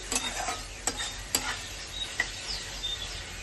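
Prawns fry in a pan with a soft, steady sizzle, punctuated by several sharp clinks and scrapes of a spoon stirring them.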